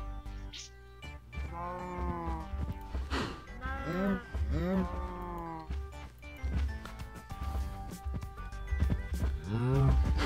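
Cows moo in a farming video game, several drawn-out lowing calls overlapping one another amid game sounds and footsteps, while a person talks throughout.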